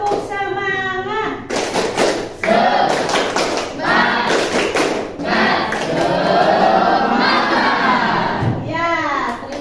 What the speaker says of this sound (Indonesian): Ya, silakan tepuk semangat.